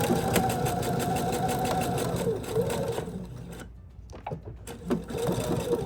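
A sewing machine runs a steady straight stitch, with a brief pause and a few stops and restarts, while making a pillow-style skateboard stuffed toy. The fast mechanical rhythm sounds close and loud, with no talking.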